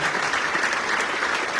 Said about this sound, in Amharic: አንድ ጊዜ ለመጨረሻ አጨብጭቡ